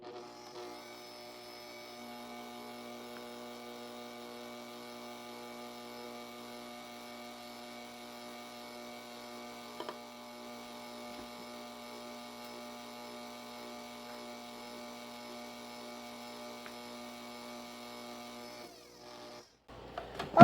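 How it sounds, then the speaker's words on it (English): An electric stand mixer whirring steadily while sugar is gently shaken in for coconut macaroons, a faint even motor hum with a brief bump midway and a cutoff at the end. "we're going to gently shake that in as the mixer is running"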